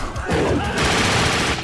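Dense gunfire rattles in The Darkness video game, loud, continuous bursts of shots with a harsh, crackling burst at the start.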